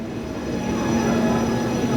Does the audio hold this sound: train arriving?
yes